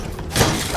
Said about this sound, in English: the sound of them shattering is getting under my skin